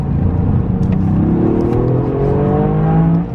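Toyota GR Yaris, a 257 bhp hatchback, accelerating hard with a steady rising engine note and climbing harmonics, loud and close from inside the car, with no talk.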